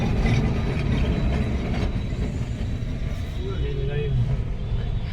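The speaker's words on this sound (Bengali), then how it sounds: "ট্রাম যাচ্ছে।" A tram passes along a Kolkata street near Rabindra Sadan, its low mechanical rumble blending with steady city traffic noise while people talk nearby.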